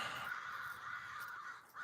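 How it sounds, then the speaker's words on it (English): Crows caw outdoors, a faint, distant pair of calls, the first drawn out and a brief second near the end, over quiet background. "the birds are so amazing out there right now. All the crows."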